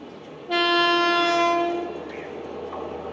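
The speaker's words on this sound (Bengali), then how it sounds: "27959 খড়গপুরের WAG7 নিয়ে মালগাড়িটা যাচ্ছে নৈহাটির দিকে" A goods train hauled by a WAG7 electric locomotive from Kharagpur passes, opening with a loud, sustained horn blast that gives way to a steady rumble of the train rolling by.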